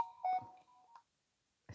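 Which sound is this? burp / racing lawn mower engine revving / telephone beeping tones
telephone beeping tones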